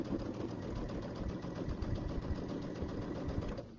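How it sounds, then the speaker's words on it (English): A sewing machine stitches steadily across a fabric overlap on an Easter bench pillow, a continuous close mechanical whir with rapid rhythmic needle knocking throughout, stopping at the end. "so here we get another one of those overlaps, so we're going to sew over it."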